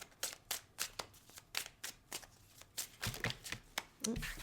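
A deck of tarot cards is shuffled up close. The cards riffle and slap in a steady series of crisp, rhythmic bursts, loud and repeated through the whole stretch, with no talk over them.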